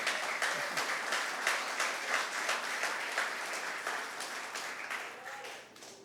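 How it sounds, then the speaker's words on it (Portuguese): Church congregation applauding during a Portuguese-language service, steady, moderately quiet clapping from many hands that gradually tapers off, with a voice briefly heard over it. "E o povo diz: amém, e aplauda ao Senhor,"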